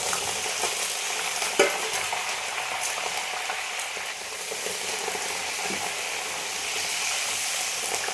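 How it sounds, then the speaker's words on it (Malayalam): Curry leaves deep-fry in hot oil for homemade Kerala mixture snack, making a loud, constant bubbling sizzle close by, with a sharp tap or clink or two from a utensil and no speech. "അവസാനമായിട్ട് നമ്മളിത് കറിവേപ്പിലയും കൂടി ഒന്ന് വറുത്ത് കോരി എടുക്കുകയാണ് കേട്ടോ"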